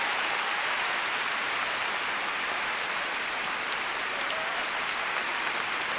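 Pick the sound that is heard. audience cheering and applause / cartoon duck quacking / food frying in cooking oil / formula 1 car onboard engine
audience cheering and applause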